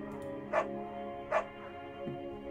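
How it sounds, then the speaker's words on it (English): A dog barks twice in the video game Firewatch, two short, clear woofs about a second apart, fairly close, followed by a faint softer yip over a quiet, humming game background. "Buck is a good dog."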